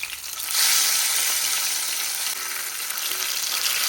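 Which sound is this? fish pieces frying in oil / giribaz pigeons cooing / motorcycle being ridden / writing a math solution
fish pieces frying in oil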